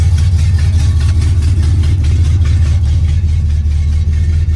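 1986 Chevy Caprice Classic with a swapped 350 V8 running, a loud, close, deep rumbling engine note with a steady lumpy pulse and only slight rise in revs.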